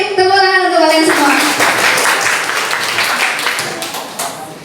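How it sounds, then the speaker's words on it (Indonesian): An audience bursts into loud, sustained applause at an Indonesian-language talk event; a brief voice opens before the clapping swells and then slowly fades. "tepuk tangan untuk kalian semua"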